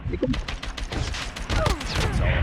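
Rapid gunfire from a shooter video game crackles in dense, overlapping bursts, loud and close throughout, with a player's voice audible beneath the shots.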